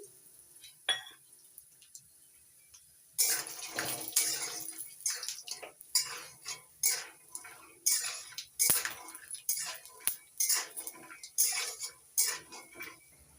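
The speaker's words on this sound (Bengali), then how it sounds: "তেল গরম হয়ে গেছে এবার দিয়ে দিচ্ছি বাদাম বাদামগুলো ভেজে নিচ্ছি" Peanuts frying in hot oil in a wok on a gas stove, heard as bursts of wet crackle and metal clinks that come and go in an uneven rhythm after a quiet start.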